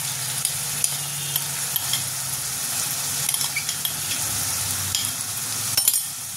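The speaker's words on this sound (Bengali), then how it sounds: "এবার আমি এই মশলাটা যে মিশিয়ে রেখেছিলাম এটা আমি দিয়ে দেবো" Mixed spice paste goes into sizzling fried onion paste in a pan for Bengali hilsa pulao, with a steady fry hiss under the repeated scrape and knock of a spoon stirring against the pot.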